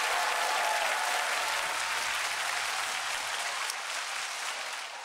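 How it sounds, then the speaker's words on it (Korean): Sustained applause from a television music-show studio audience, a dense, even wash of clapping that stays fairly loud and fades slightly toward the end. "큰 박수로 환영해 주시기 바랍니다."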